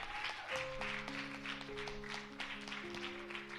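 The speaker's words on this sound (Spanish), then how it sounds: "Miren cómo aplaude ella ahora" A woman claps her hands in a church service, the rhythmic claps steady and close over sustained keyboard or organ chords.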